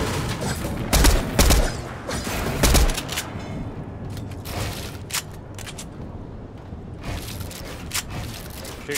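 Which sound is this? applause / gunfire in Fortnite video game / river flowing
gunfire in Fortnite video game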